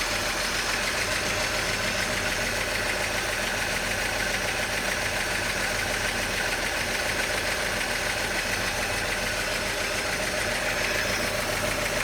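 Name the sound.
1941 Chevy Coupe engine running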